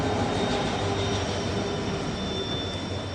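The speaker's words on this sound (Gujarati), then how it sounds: "ત્યાં તો આપણે પહોંચી ગયા રેલવે સ્ટેશન અને આપણી ટ્રેન પણ આવી ગઈ" A train arriving at a railway station, a loud continuous rumbling roar with a faint steady whine, filling the whole stretch without voices.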